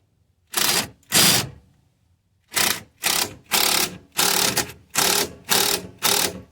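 Rapid bursts of a power tool run a bolt up on the front end of a GMC Yukon XL, two short whirs followed by a steady series of six close, loud pulses with no talk.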